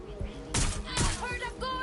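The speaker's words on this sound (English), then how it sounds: "I heard a gun!" Gunfire in the video game Watch Dogs: two sharp, loud bursts of shots crack out in quick succession over a busy game-sound background, followed by a softer third burst.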